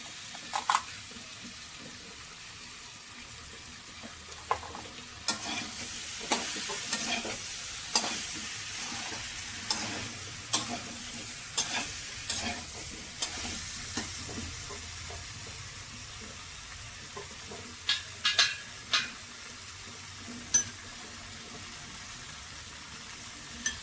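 Cauliflower stir-fried in a pan with salt and ginger: a low, steady sizzle broken by scattered scraping clicks of stirring, fairly quiet and without talk.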